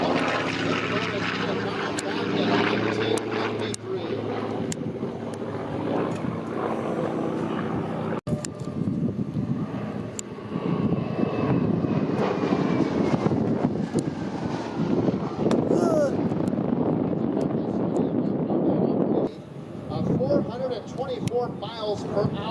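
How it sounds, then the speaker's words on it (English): Grumman F8F Bearcat radial-engine fighter making a high-speed pass at the Bremerton airshow, a sustained propeller and engine roar swelling over wind buffeting, with a crowd and announcer talking underneath throughout. "Another high-speed pass by Mike Oliver in the Bearcat from the aircraft division of General Motors"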